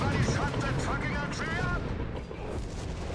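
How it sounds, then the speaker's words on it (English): High-explosive shell fired in Company of Heroes 3, a World War II strategy game: dull artillery booms and blasts rumbling under continuous talking, with no single sharp report standing out. "taking out half the squad there with a single high explosive shell"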